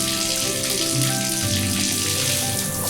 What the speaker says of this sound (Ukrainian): Вода лється і наповнює раковину.